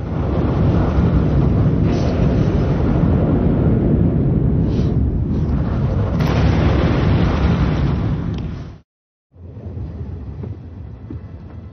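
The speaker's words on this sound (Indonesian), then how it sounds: "helikopter pun meledak" A helicopter explodes in a film, a big rumbling explosion roaring loudly and sustained, then cutting abruptly to brief silence before a lower, rougher rumble continues.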